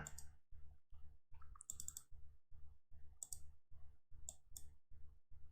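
Computer mouse clicks tap out in a quick, regular series of short, close clicks at a low level while a zip file downloads on a PC.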